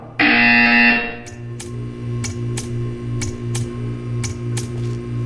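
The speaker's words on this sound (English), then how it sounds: "You will hear a buzzer." A loud electronic buzzer sounds once for about a second in the Portal 2 video game, followed by a steady low machine hum with rapid, evenly spaced ticking clicks.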